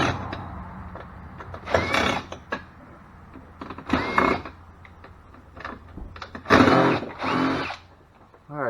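Removing screws from a golf cart charge port, a power tool whirs in several short bursts, with quiet handling clatter between them and a longer, louder final run.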